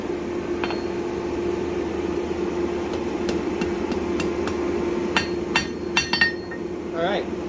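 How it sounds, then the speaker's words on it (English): A planishing hammer strikes hot steel held over the edge of an anvil while a basic bottle opener is forged. Several sharp, ringing blows land in an irregular cluster over a steady background hum. "Using our planishing side of our hammer here"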